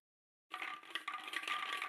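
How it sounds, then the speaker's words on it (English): Lottery balls tumbling and clattering together in a bowl, a busy rattling shuffle that begins abruptly after a short silence and continues close and fairly quiet. "So that's the shuffle for draw number 1, and we draw our ball"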